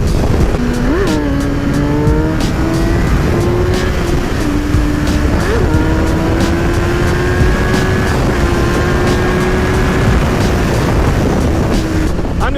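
A Kawasaki ZX-10 motorcycle engine revs loudly and steadily while being ridden, its pitch climbing through gears with brief dips between shifts, under constant close wind rush.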